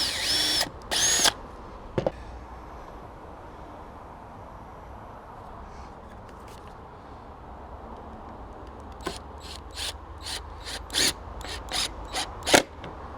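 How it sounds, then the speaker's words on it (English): A cordless power drill driving screws into decking boards for a raised bed, short sharp whirring bursts at start and end separated by quiet stretches with faint background hum. "take a drill again and carry on through the hole."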